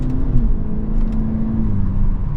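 A 2025 Hyundai Elantra N-Line with a turbo engine and dual-clutch transmission pulls away, its engine a steady low hum and droning whir heard from inside the cabin, with a slight rise in pitch.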